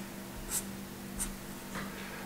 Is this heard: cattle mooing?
no